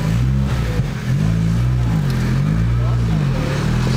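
Rebuilt car engine revving unevenly on a first drive after rebuild, pitch rising and falling as it nearly stalls, loud and close throughout, with voices talking over it.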